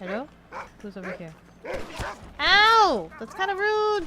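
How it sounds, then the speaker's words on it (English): A dog barks in the video game Red Dead Redemption, a few short yaps and one drawn-out yelp heard under a player who talks almost continuously. "That's a dog."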